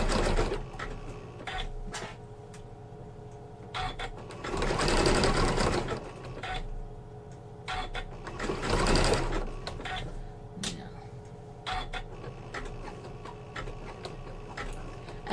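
Home sewing machine running at a steady speed, stitching grey and red rope into an embroidered rope bowl, its even close whir swelling twice as it speeds up, with no voices.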